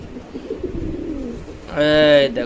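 Male pigeon cooing in eager courtship, a loud harmonic coo rising near the end after a stretch of soft rustling and faint background sound.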